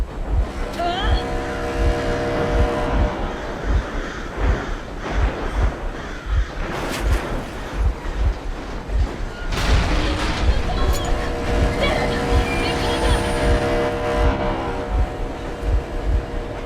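A vehicle engine in the game Metro Exodus runs loudly and steadily throughout, with a rhythmic low thumping, bursts of harsh noise and clattering layered over it.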